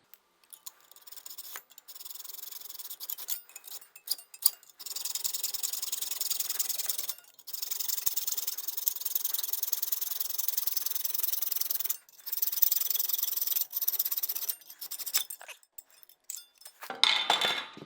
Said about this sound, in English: So now since we use the hacksaw on this side, we're also going to use a hacksaw on the other side.